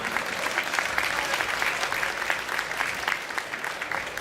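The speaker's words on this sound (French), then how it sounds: "Vous pouvez applaudir à chaque question, c'est bien." An audience at a Game of Thrones convention panel in Paris claps steadily, a dense and fairly loud wash of applause from a crowd that holds evenly throughout without fading.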